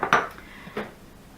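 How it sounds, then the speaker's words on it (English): Sugar goes into a mixing bowl with softened cream cheese and butter, marked by two quick, bright clinks of a utensil against the bowl, close and fairly quiet. "I'm going to put my sugar in the bowl as well."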